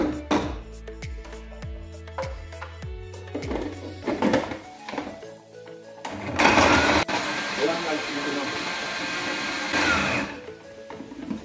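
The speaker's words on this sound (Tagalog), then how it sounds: "Pero ako, gigilingin ko sa machine." Kitchen food processor chopping onions, carrots and celery, with short pulsed bursts that give way to a loud continuous whirring grind, while a person talks over it.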